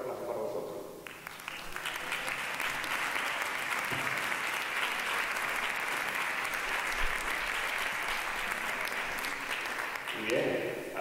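A concert audience applauds a municipal band, a steady sustained wash of clapping lasting throughout, with faint voices at the edges.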